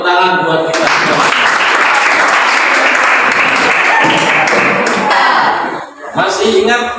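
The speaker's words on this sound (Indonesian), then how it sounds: "Tepuk tangan buat kita semua." Loud, dense applause from a classroom audience during a teacher training session, sustained for several seconds and then cut off, with voices heard before and after.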